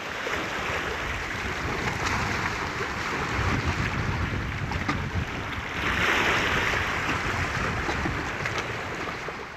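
Continuous rushing roar of sea waves on the shore close by, on the Lycian Way coast in Turkey, mixed with gusty wind buffeting the microphone; no voices.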